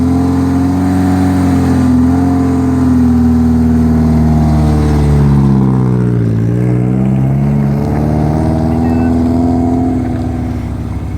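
A rally car engine roars close by at the end of a stage at the Olympus Rally, revving loudly with the pitch dropping and rising again as it arrives and slows, no talking.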